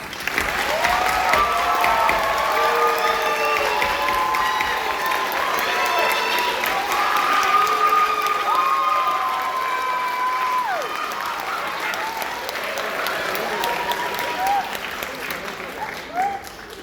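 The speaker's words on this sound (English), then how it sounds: "Let's give a big round of applause." Applause and cheering at a nursing school white coat ceremony, a long continuous round of clapping from a large audience with whoops and excited voices rising over it throughout.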